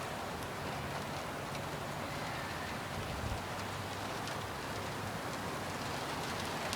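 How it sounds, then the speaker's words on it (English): Steady rain pours down during a severe April thunderstorm with gusty wind in Rancho Cordova, California, a dense continuous patter with a low rumble briefly swelling underneath. "The rain picking up again."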